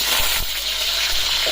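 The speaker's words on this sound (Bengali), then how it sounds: "তো আগে আলুগুলো ভেজে নেব" Potatoes frying in hot oil in a wok give a steady, dense sizzle that hisses evenly throughout, close and fairly loud, with no talking.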